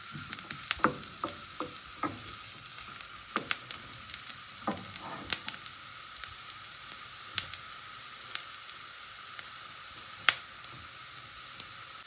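Burger ingredients sweating and sizzling in a pan, a low steady hiss broken by scattered sharp pops and crackles at irregular moments.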